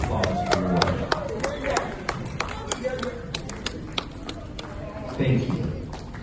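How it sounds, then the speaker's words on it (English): Audience at a DSA Seattle 2019 event clapping in scattered, uneven applause, with voices and cheering from the crowd mixed in. "please stand for a round of applause for your work"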